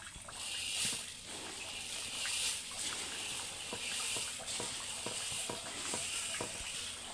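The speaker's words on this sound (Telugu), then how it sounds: "ఇలా పోస్తూ ఉంటే తిప్పుతానే ఉండాలండి లేదంటే ఉండలాగయి ఒక చోటే ఉండగట్టిపోద్ది" Puffed rice being stirred into hot jaggery syrup in a pan, a continuous sizzling crackle with repeated scraping stir strokes that settle into a steady rhythm.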